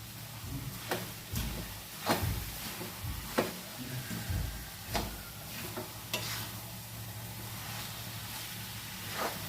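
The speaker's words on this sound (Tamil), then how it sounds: "500 கிராம் சுகர் போட்டு நல்லா அதை கிளறி விடுவோம்" Carrot halwa with sugar is stirred in a pan, a spoon scraping and thudding in a loose repeated rhythm over a soft continuous sizzle, close up and without talk.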